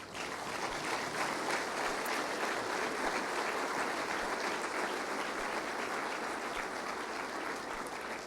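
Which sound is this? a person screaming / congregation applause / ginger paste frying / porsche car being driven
congregation applause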